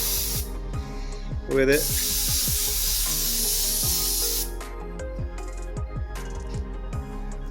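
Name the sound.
spray paint misting onto a 3D printed Robocop suit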